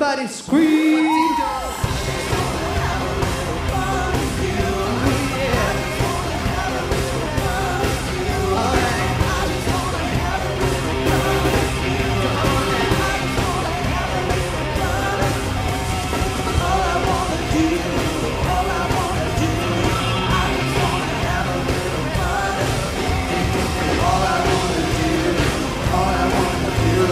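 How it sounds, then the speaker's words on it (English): At a live Halloween carnival concert in West Hollywood, a dense crowd yells and cheers continuously with loud music for the whole stretch, sustained and enveloping. "Everybody scream!"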